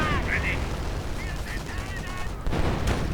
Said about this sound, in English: And now artillery going in right here.